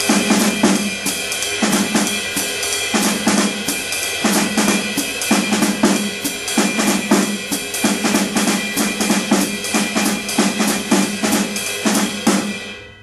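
A jazz drum kit plays groupings split between the left hand on the snare and the bass drum, with a steady cymbal ride over busy, irregular accents. It sounds close and loud throughout and stays purely instrumental.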